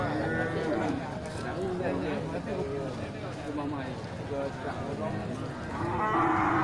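Simmental breeding cow at a busy livestock market, lowing nearby amid a crowd of voices and trader chatter.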